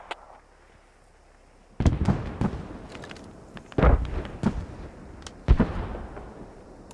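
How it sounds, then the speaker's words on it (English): Mortar rounds exploding in the video game Squad, three separate heavy booms a couple of seconds apart, each with a sharp crack and a rumbling tail, over quiet battlefield ambience. "See if you can mark the mortars."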